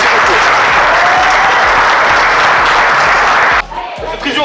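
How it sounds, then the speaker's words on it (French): Loud, dense applause from a large audience at a Christmas cup event, steady and continuous before cutting off sharply near the end, where a voice and fainter noise follow. "s'il vous plaît, un tonnerre d'applaudissements aussi pour mon ami, mon frère, Monsieur Trigeau."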